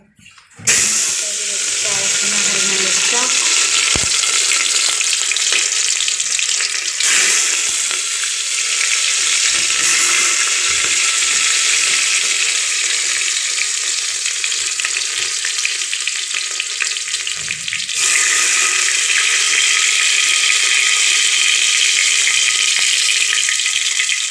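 Rice hits hot oil in a home kitchen pan while making rice with vegetables, giving a loud, continuous sizzle with stirring scrapes and a brief splash of water partway through.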